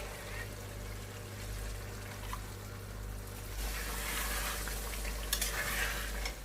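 Chickpeas roast in masala with a little water, stirred in a pan. A steady sizzle runs with scraping stir strokes, growing louder and busier halfway through.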